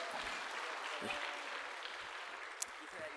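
Faint, distant applause from a small church congregation during a graduation presentation, a soft continuous patter of clapping throughout.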